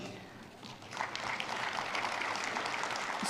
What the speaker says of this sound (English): as you also clap for them